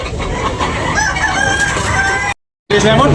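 Several roosters crow loudly over a noisy crowd of clucking fowl at a chicken market, the calls overlapping, with a brief cut to silence before the crowing resumes.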